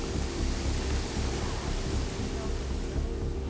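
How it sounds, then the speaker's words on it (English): A thunderstorm with heavy rain rolls over an open field, making a dense, continuous roaring wash that stays loud and even throughout, with low rumbling beneath the rain noise. "The storm passes over,"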